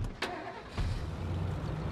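A battered, worn-out car engine in the game State of Decay: Lifeline cranks and then runs with a rough, low rumble, close and without speech.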